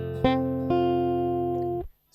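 An F bar chord on guitar, with the strings plucked one at a time, so a few separate notes ring and overlap into a sustained, fading chord. It plays clearly and alone.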